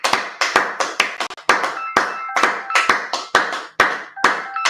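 A class claps together in loud, close, sharp bursts, a dozen or so claps in an uneven rhythm with brief gaps between them.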